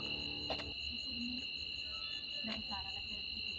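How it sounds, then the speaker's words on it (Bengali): Crickets chirp at night in a quiet hill forest, a steady, high-pitched continuous trill, with faint distant voices and a couple of soft clicks in the background. "তোমরা নিশ্চয়ই শুনতে পেলে ঝিঝি পোকার ডাক"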